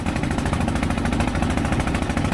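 Engine-driven trawler boat on the Padma river on a foggy morning, its motor chugging loud and steady in a dense, rapid knocking rhythm, close and continuous throughout.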